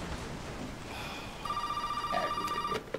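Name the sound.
telephone ringing in video game Resident Evil 7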